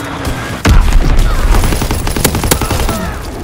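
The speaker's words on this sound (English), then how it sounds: "Enemy bomb incoming. Get to cover." Bomb blasts and rapid gunfire from a Call of Duty WWII online match crash in after a brief lull, a dense, loud barrage of booms and shots that keeps rattling to the end.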